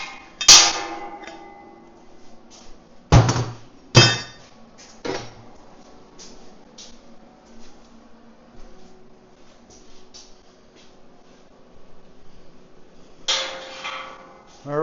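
Metal welding clamps coming off a steel trailer frame: several sharp clanks and clatters, a cluster early on and another near the end, with quieter rattles and ticks in a fairly still workshop between.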